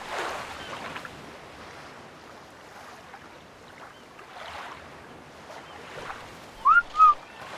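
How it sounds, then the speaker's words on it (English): Player character in Ark Survival Evolved whistling a follow command: two short, bright rising whistle notes near the end over a soft, washy watery ambience. "So I'm going to whistle follow all."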